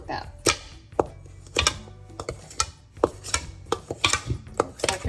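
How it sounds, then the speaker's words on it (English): Two crossed knives cut butter into flour for a peach and blackberry pie crust, giving a close, irregular series of sharp taps and scrapes against a bowl, with no talking. "if you don't have a pastry blender, you use 2 knives and just cross them like that"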